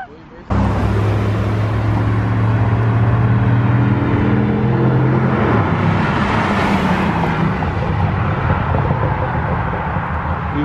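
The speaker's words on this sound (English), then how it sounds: "Exhaust crack." An SS car's engine revs loudly and up close, rising and then falling away, with its exhaust crackling as voices talk over it.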